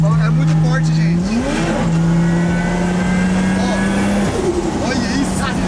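A Nissan 350Z engine revs hard while drifting, loud sustained engine tone climbing and falling with throttle changes, heard from inside with tire noise underneath.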